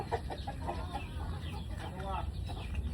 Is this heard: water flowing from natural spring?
no